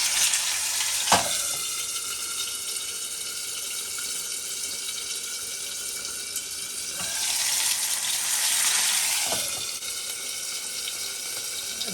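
Fish fries in a hot pan with a steady, loud hiss of sizzling oil, swelling briefly with a couple of sharper crackles and stirring scrapes, no voices.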